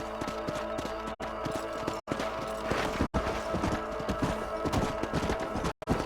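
Horse hooves clip-clop steadily in the Western video game Red Dead Redemption, a continuous rhythmic patter under game music, with a few brief dropouts and no talk.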